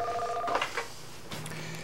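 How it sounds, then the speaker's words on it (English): A telephone ringing: faint electronic ring tones in the first half, fading under a quiet, murky background. "Answer the fucking phone."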